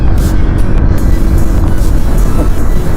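A car drives a rough alternative route between Ciamis and Pangandaran via Cigayam Kalijaya, engine and road rumble loud and close inside the cabin, steady and heavy with wind buffeting throughout.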